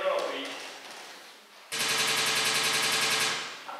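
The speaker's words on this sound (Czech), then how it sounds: "A pořád tam střílí." Gunfire sound effect in a theatre play: after a stretch of voice, a sudden loud rapid burst like machine-gun fire rattles steadily for over a second, then fades.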